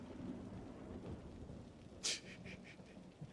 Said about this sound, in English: And it's raining on top of it.